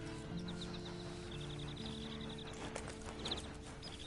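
Horse hooves clip-clopping in the video game Red Dead Online, a faint steady rhythmic trot mixed with farmyard fowl clucking and soft ambient game sounds.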